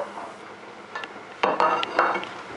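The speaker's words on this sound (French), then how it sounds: "je prends l'oignon, je le mets dans la sauteuse" Onion tipped into a sauté pan lands with a few clattering knocks and clinks of utensil on metal, close and fairly loud, followed by a faint trace of frying.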